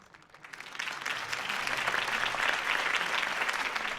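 A crowd applauds after a Harvey Dent campaign speech in the Batman Realm of Shadows video game, the clapping beginning softly and then swelling into a steady, dense ovation that continues for several seconds.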